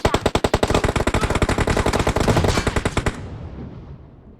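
Automatic weapon fire in the PUBG Mobile battle game, a loud, rapid sustained burst of evenly spaced shots for about three seconds that then cuts off and leaves a fading echo.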